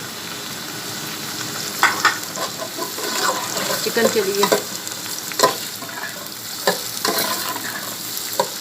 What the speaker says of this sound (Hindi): ये 3 अदर प्याज हैं, ये इसमें फ्राई करूँगी